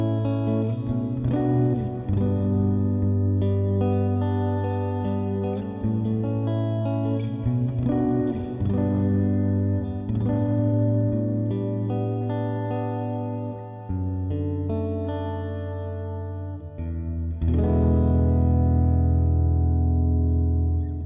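Electric guitar played through a multi-effects pedalboard unit rings out in sustained chords and notes with chorus, echo and reverb, loud and continuous for about twenty seconds, with no talking.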